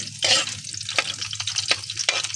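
Kuyamas frying in a pan with a steady crackling sizzle, broken by several sharp stirring scrapes and clinks.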